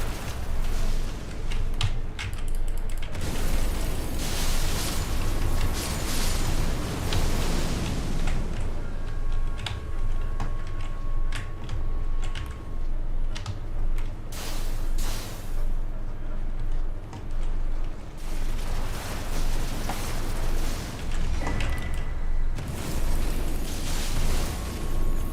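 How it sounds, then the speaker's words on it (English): Enemies exploding in Elden Ring, a long stretch of repeated bursts and pops over dense battle noise, loud and continuous with occasional sharper blasts and brief lulls. "these ones bleed when they explode"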